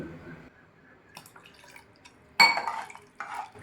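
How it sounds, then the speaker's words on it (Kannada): A short splash of water pours into a pot of vegetable dal sambar, followed by a brief second trickle, amid faint kitchen clatter. "ಸ್ವಲ್ಪ ನೀರು ಹಾಕ್ತಾ ಇದ್ದೀನಿ ನೋಡಿ"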